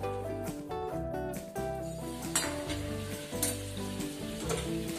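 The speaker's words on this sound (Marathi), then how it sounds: "बारीक गॅसवरती आपण चिकन शिजेपर्यंत चांगलं शिजवून घेऊया" Chicken masala cooks in a covered pan over a low gas flame, giving a steady, close sizzle and bubbling with faint clinks of the pot. No one speaks.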